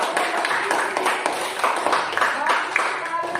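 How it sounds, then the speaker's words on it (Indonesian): Classroom applause as pupils clap after a group finishes presenting its discussion results, a busy patter of many small hands at moderate level, with voices mixed in underneath. "Iya, tepuk tangan yang meriah."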